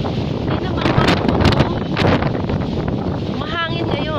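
Strong wind roars and buffets the microphone continuously, a loud broadband rush that swells and gusts throughout.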